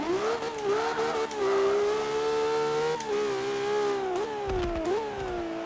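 A car engine revs during a burnout in the Forza Motorsport 7 racing game, a loud steady tonal drone with pitch wobbling up and down as the throttle shifts, heard alone without talk.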